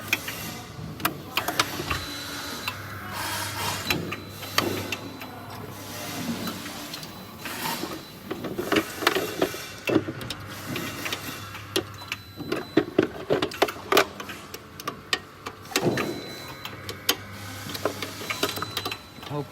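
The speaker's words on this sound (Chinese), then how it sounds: "然后固定电机4个螺丝锁紧之后再试运行一下，直到去掉声音" An electric motor on a test run clatters with an abnormal noise, irregular ticking and rattling knocks over a faint steady hum, close and fairly quiet with uneven bursts.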